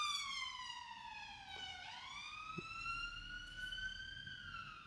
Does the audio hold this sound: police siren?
yes